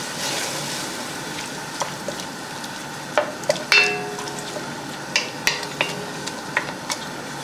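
Lechon paksiw stirred in a pan with Mang Tomas sauce: a steady close sizzle with scattered sharp clinks and scrapes of a utensil against the pan, no talking.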